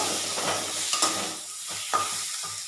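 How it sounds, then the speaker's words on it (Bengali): Spice paste frying in a pan while being stirred, a steady close sizzle broken by scraping stirring strokes, with no voices. "চলো এটা একটু ভাজা হোক"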